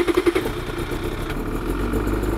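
Ski-Doo Summit Neo+ snowmobile engine cranking and catching: a few rhythmic starter pulses at first, then a steady low idle rumble close by.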